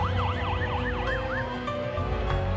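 An ambulance siren at Kahului airport on Maui during a plane crash emergency, loud and close, its wailing tone sweeping up and down in quick repeated cycles over a low engine rumble.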